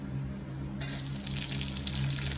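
Green chillies dropped into hot oil in a pan for a potato masala curry: after a quiet moment a bright steady sizzle starts and continues, close and moderately loud.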